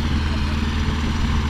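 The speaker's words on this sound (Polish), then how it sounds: "Ciągnik akurat" A diesel tractor engine runs nearby on a beach, a steady low rumble that holds even and unbroken throughout with no talk over it.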